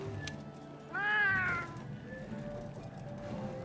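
A cat character in Monster Hunter World gives one clear, rising-and-falling meow over a low, steady game background hum.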